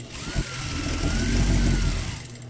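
A sewing machine runs in one continuous burst as it stitches around the edge of a dress neckline piece, with a steady motor hum rising and easing off over a couple of seconds, heard close up without speech.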